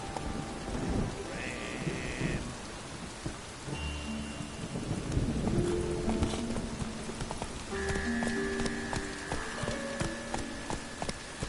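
Roach the horse clip-clops steadily in a video game, hoofbeats trotting at close range over a backdrop of rain and rolling thunder.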